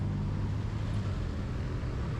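Steady road traffic in Manila, a dense continuous rumble of cars, buses and trucks close by, with no voices over it.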